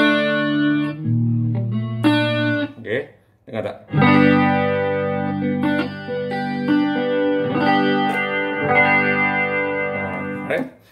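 Electric guitar through the chorus effect of a Zoom G3 pedal, chords and notes with a shimmering, doubled tone, played close and loud, with a voice speaking briefly between phrases.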